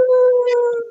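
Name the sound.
Siberian Husky howling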